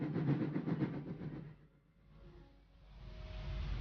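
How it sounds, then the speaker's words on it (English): A train rumbles along with rhythmic clattering that fades to a quieter stretch before the rolling noise builds again. "Then they take a train to Italy"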